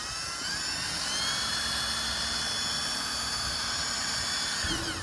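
A rotary tool drills out a rivet on a NASCAR diecast car, a steady high-pitched whine close by that holds for several seconds before dropping off at the end.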